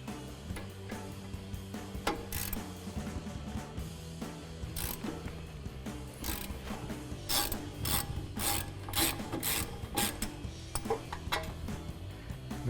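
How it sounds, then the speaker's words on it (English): A 1/2-inch ratchet clicks in quick, irregular bursts with metallic rattles while loosening brake caliper bracket bolts on a 2019-2024 Silverado 1500, close and fairly quiet, no talk. "we'll switch over to our 1/2-inch ratchet."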